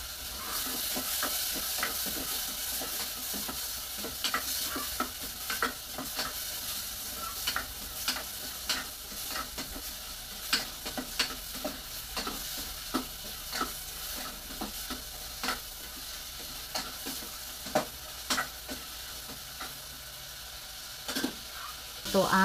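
Meat sautéing in a pan for tanghon, a steady soft sizzle broken by repeated clinks and scrapes of a utensil stirring, with a voice talking now and then.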